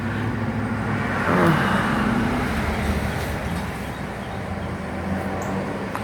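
Steady traffic on a main road rumbles continuously, with a vehicle swelling louder as it passes nearby, then the wash of road noise carries on.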